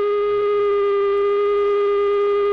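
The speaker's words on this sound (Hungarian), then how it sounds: "A dudaszó az éjszakai munka végét jelzi." A loud, steady horn tone with strong harmonics sounds continuously in the Budapest metro in 1972, signalling the end of night maintenance work, with a faint low rumble beneath.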